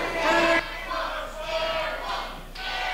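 An indoor wrestling crowd yells and chants during an independent championship match, a rowdy roar of many voices rising in waves, with one louder shout standing out near the start.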